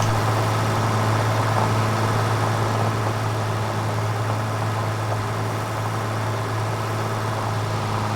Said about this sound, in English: I like this tractor.